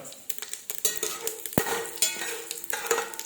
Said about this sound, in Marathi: शेंगदाणे आपल्याला तांबूस रंगावर परतून घ्यायचे आहेत